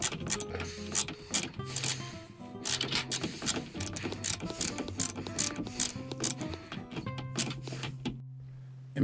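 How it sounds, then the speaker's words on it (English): A ratchet tightens a sheet metal screw on an LG washer during a drain pump repair, giving rapid, close clicking strokes in repeated bursts with brief pauses between them. "I used that sheet metal screw where the original one was holding it down underneath, and I ratcheted it tight into place."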